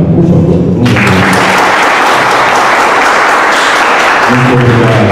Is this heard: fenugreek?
no